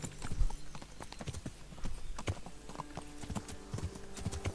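Horse hooves clip-clop in the video game Kingdom Come: Deliverance, a steady run of close hoofbeats with faint creaks and gear rattle throughout.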